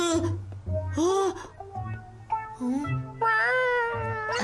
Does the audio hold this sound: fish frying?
no